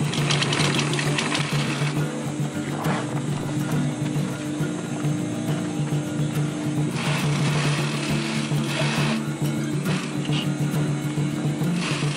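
A sewing machine runs a tension stitch along the straps of a DIY roll-up bag, giving a steady, continuous mechanical hum and whir close by for the whole stretch, with no pauses.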